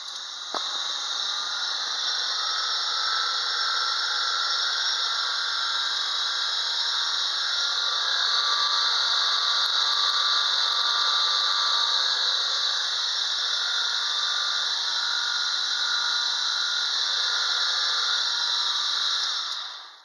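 A homemade driveshaft spins at roughly 3000 RPM for a balance check, giving off a steady, loud, high whine and hiss that holds unchanged for the whole stretch and then cuts off at the end.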